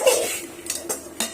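Utensil scraping and clinking against a pan while masala is stirred, a few separate metallic strokes close up with short quiet gaps between them.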